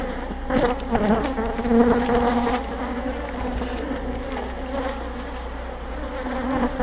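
An agitated honeybee hive during a spring inspection, a dense, steady buzzing drone that fills the whole stretch, loud and close, with no talk over it.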